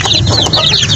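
Chickens cluck in a short, close burst of several quick, overlapping clucks.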